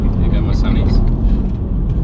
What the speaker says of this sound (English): I love the sound of these cars. They're a motor that kind of grows on you, the engine note.